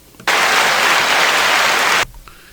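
A single abrupt burst of dense hand clapping, like a short round of applause, lasts just under two seconds at steady loudness and cuts off sharply, with no voices over it.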